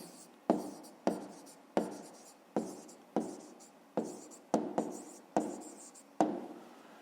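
Pen strokes scratch on paper while a maths exercise is written down, about ten sharp, evenly spaced strokes, each fading quickly, close and clear with no talk over them.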